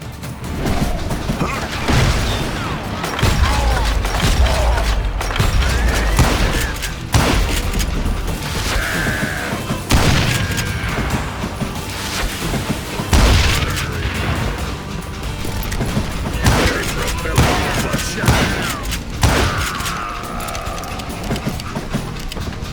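Gunfire fills a Western shootout in Call of Juarez Gunslinger, with repeated loud gunshots, crashes and impacts over a dense game soundtrack, continuous throughout.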